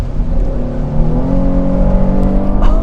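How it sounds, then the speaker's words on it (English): A 2024 Chevy Blazer RS V6 engine revs in a steady, loud, close drone whose pitch climbs gradually, with no talking over it. "It really has a nice sound though on that V6."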